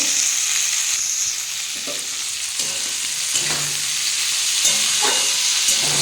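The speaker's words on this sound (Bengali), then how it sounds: "লাল লাল করে ফুলকপিগুলো ভেজে নেব" Cauliflower florets frying in oil with a little salt, a steady bright sizzle and hiss running throughout with occasional soft stirring knocks, close and fairly loud, no voices.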